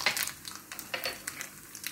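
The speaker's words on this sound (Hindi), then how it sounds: "देखिए पैन गरम कर लिया है, तेल गरम है हमारा। इसमें हम राई डालेंगे" Mustard seeds hit hot oil in a pan for a tempering for sambhar, giving a close, steady sizzle with fast crackling pops and no talking.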